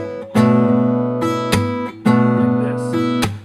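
Strummed acoustic-style guitar rhythm, four chord hits in a steady pattern with sustained ringing between strokes, played close and clear with no talking.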